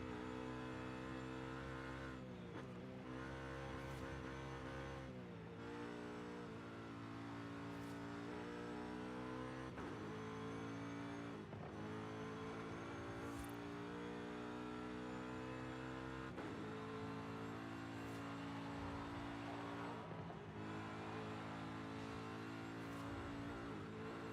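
A BMW car engine drives in the Forza Horizon 5 racing game, a steady droning engine note that rises and dips with repeated revving and gear changes, continuous and without talk.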